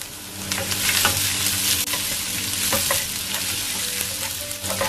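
Garlic and ginger stir-frying in hot oil with red chilli and curry leaves for a prawn stir-fry: a steady, close sizzle broken by scraping stirs, with no talking.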